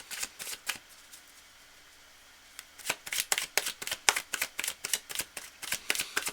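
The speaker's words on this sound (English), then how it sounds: "I have to shuffle the cards for a little while" A deck of tarot cards is riffled and shuffled by hand in a quiet room, a rapid string of sharp, crisp flapping bursts following a brief pause.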